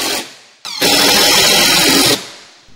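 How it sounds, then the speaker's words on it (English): A power tool drives fasteners into metal valley flashing on a roof. A short buzz is followed by a loud, sustained whir lasting over a second, close to the listener, with no talking. "Again, I'm putting fasteners into it to hold it secure at the top."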